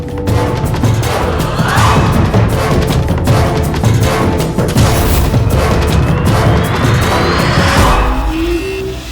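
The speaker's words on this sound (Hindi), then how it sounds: "राइफल की गोली?" Heavy booming blasts and crashes from a rifle gunshot scene in the TV series CID fill the whole stretch, dense and loud, like gunfire mixed with impacts and a noisy scene.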